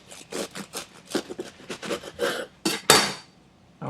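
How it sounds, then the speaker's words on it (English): A knife sawing through the crust of a homemade gluten-free baguette: close, crisp crackling strokes in an uneven rhythm, growing louder toward the end with a sharp crunchy burst, no talking. "let's take an actual slice of this"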